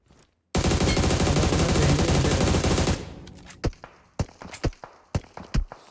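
Enemy automatic gunfire in PUBG Mobile, a loud rapid burst of machine-gun shots lasting over two seconds, followed by a string of separate sharp single shots and impacts, some nearer, some fainter.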